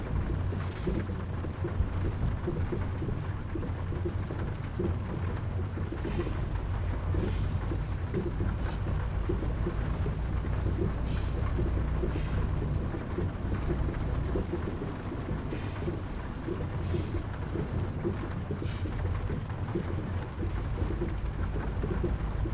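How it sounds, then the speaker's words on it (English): A heavy thunderstorm in the Outback Australia Truck Simulator video game: dense, steady rain hisses without a break over a deep rumbling undertone, and no one talks. "And the flashes of lightning, the heavy rain, the thunder."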